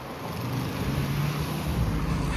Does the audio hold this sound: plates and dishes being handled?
no